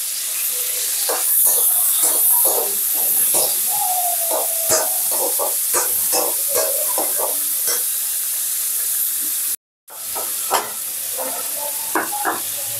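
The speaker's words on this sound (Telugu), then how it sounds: "ఆయిల్ కొంచెం అదే వేడిగా ఉంది కదా, అందులోనే టమాటోస్ వేసుకున్నాను" Tomatoes fry in hot oil with a bright crackling sizzle, broken by repeated stirring scrapes and clatters, cutting out briefly before the frying resumes.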